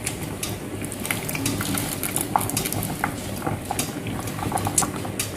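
Chicken feet and lotus root soup boils steadily in a pot, with a continuous bubbling patter and occasional faint clinks of utensils against the pot.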